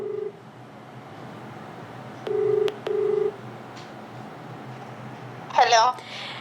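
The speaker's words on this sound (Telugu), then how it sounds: "కాల్ అయితే రింగ్ అవుతుంది, చూద్దాం ఎవరు లిఫ్ట్ చేస్తారో" A phone line gives a ringback tone: two short buzzing pulses close together against a faint hiss, then a brief chirp a few seconds later.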